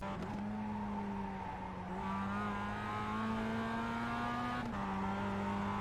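A Mazda MX-5 race car drones steadily at Summit Point Raceway as it downshifts into first gear, heard from inside the car. The engine note climbs slowly, then shifts abruptly near the end, with tire and road noise underneath and no talking.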